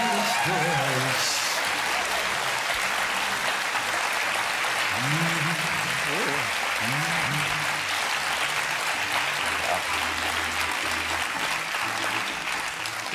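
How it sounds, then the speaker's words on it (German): Studio audience on a German TV satire show applauding for the FDP party, a dense, loud, sustained wash of clapping throughout, with a voice speaking faintly beneath it partway through. "das erste Mal, dass wir in dieser Sendung Applaus für die FDP bekommen"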